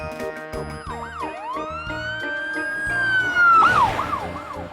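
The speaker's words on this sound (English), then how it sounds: "Police car." A police car siren wails in rising and falling sweeps, loud and steady, with a brief yelp burst near the end.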